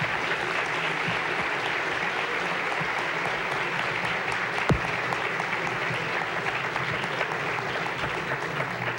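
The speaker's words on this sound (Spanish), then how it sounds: "Un aplauso, por favor." Audience at a film forum gives sustained, even applause, a dense and loud wash of clapping that holds steady throughout without voices breaking through.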